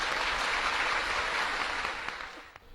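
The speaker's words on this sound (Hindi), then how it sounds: "तालियों से स्वागत।" An audience claps in welcome for Gajendra Chauhan at Shanti Kunj, Haridwar. The applause is dense and steady, then fades out over about three seconds.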